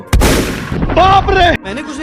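Cartoon gunfire between two rival bandit gangs on a hilltop: a sharp loud shot burst at the start, followed by cartoon voices and tonal sound effects.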